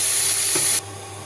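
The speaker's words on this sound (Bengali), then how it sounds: "কাজু আর কিশমিশটাও একটুখানি ভাজা ভাজা করে নেবো" Cashews and raisins sizzle in a hot pan with a steady hiss that drops suddenly and then carries on more softly. The sound is close, with no voices.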